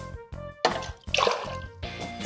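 Half a cup of hydrogen peroxide pours into a glass in short splashing bursts, with steady background music underneath.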